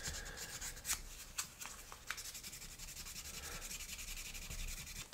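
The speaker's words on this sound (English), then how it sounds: "I think our sanding preparations are complete" Sanding the edge of an AMX Javelin model car body: close, steady scratchy rubbing strokes with a few sharper scrapes standing out near the start.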